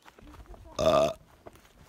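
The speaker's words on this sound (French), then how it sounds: "Je viens de la choquer parce que j'ai roté." A single loud, drawn-out burp from a hiker on the GR20 trail in Corsica after drinking filtered water, lasting about a third of a second and standing out clearly against quiet outdoor background.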